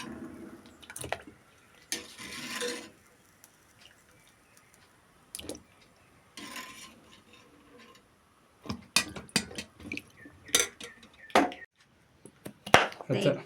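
Quiet kitchen sounds with a few splashes of cold water, then a run of sharp irregular knife chops through kokum fruit on a board for pickle, close and crisp.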